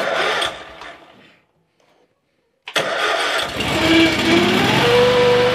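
A lawn mower engine pulls over briefly, falls silent, then catches and starts, settling into a loud, steady running drone close by.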